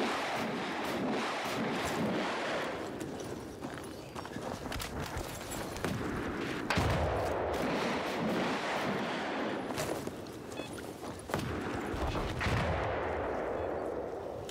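Battlefield 4 combat with repeated loud gunshots and heavy blasts in irregular bursts over a constant rumbling battle din, sounding close and dense throughout.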